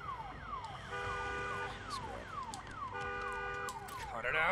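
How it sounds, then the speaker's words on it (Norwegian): Alarm siren in Days Gone, a repeating electronic wail sweeping down in pitch in two long bursts, fairly loud over a low hum, with a brief rising tone near the end. "Nå må jeg fikse alarmen her også."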